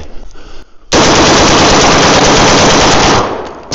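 An FN Reflex with a full-auto switch fed from a 20-round magazine fires one loud, continuous burst that starts suddenly and runs for over two seconds. The burst then tails off, with some quieter handling noise before it.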